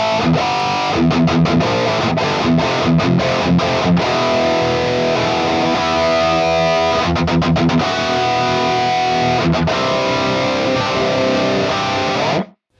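A distorted rhythm guitar through an Axe-Fx with two IRs chugs out loud, tight palm-muted riffs with sharp stops and repeated stabs, continuous and close for about twelve seconds before cutting off abruptly.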